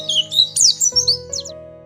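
Hungry little birds chirp and squawk in a quick run of high, bright calls over a soft tonal background that fades toward the end.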